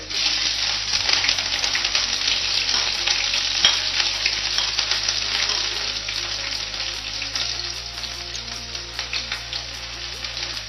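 Green chillies fry hard in a pan for a spicy bitter gourd side dish, a loud, steady, close sizzle that holds unbroken throughout, with no talking.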